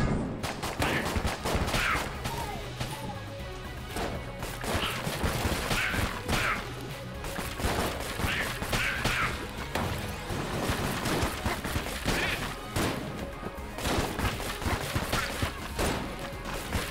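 Rapid, dense gunfire from the unfinished gun in Enter the Gungeon, a steady clatter of shots and impacts that runs without pause for the whole stretch over layered game sound.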